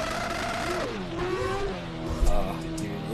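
A 4-rotor A90 Toyota Supra mod of about 1100 hp in Assetto Corsa revs with a rising and falling rotary engine tone, a continuous buzzy wail under someone talking.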